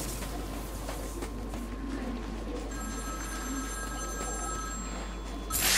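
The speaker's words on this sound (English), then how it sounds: "Está ali um telefone tocar." A telephone rings inside the video game Batman: Arkham City, a steady electronic ring tone sounding over a dense, continuous game ambience at moderate loudness.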